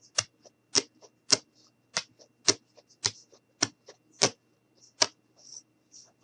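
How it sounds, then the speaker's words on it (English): An X-Acto knife cuts through a plastic Kool-Aid container, producing a series of crisp, close clicks and snaps at a fairly regular rhythm, roughly ten sharp ticks with quieter scratches between them. "I'm going to grab the X-Acto knife. And I'm just going to go ahead and cut"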